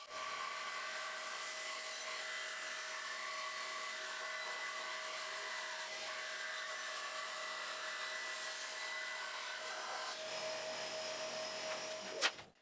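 A band saw runs through wooden boards in a woodworking shop, giving a steady, unbroken whine with a sustained tone that lasts throughout and ends in a brief louder clatter.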